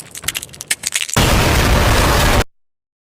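A supercritical explosion in a video game: a loud, sudden burst that cuts in after a second of scattered crackling and clatter, roars as dense noise for over a second, then stops abruptly into silence.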